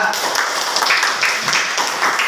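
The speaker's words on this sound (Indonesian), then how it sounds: "Beri tepuk tangan untuk kelompok 2." Students in an elementary classroom clap for a group that presented its discussion results, a dense, steady patter of many hands filling the room at moderate loudness for a couple of seconds.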